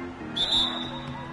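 A referee blows a whistle during a basketball game: one short, shrill blast cuts through the background court and crowd noise, then fades.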